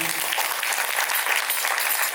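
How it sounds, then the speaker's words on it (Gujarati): Dense, steady applause from a crowd gathered at a Hindu temple during a Tulsi Vivah celebration, a continuous wash of clapping lasting the whole moment with no voices on top. "એક વખત આપણે જોરદાર તાળીઓના નાદથી"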